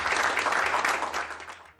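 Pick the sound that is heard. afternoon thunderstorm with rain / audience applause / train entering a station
audience applause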